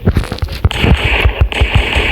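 Rapid bursts of gunfire in a zombie apocalypse video game, a quick string of sharp pops with crackling between shots, fairly loud and without speech.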